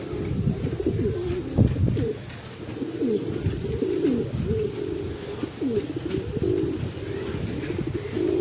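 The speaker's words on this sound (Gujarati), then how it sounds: "જોઈ લો ભાઈ, આપણા કબૂતર છે." Domestic pigeons coo close by in repeated soft, throaty rolling calls, one after another over a steady low background, with no talking.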